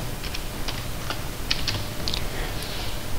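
A computer keyboard is used to type a new folder name, giving a short run of light, irregular key clicks over a steady background hiss, with no talking.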